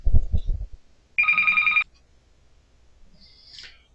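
A single telephone bell rings loudly for about half a second, close by, right after a short low murmur, then the room falls quiet.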